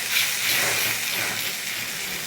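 Chopped tomatoes for Maggi fry in a pan over a high flame, giving a steady, moderately loud hiss and sizzle that carries evenly throughout with no talking.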